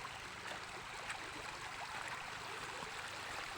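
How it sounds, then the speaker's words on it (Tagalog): Water flowing in a creek outdoors, a steady faint rushing and trickling wash that continues unbroken, with no voices. "Ito pala yung sapa dito guys."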